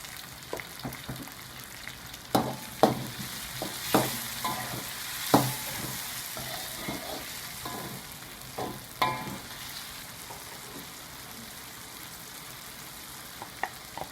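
Ginger garlic paste and tomatoes sauté in a pan with a gentle continuous sizzle, broken by irregular scraping and tapping stir strokes that cluster early and thin out toward the end.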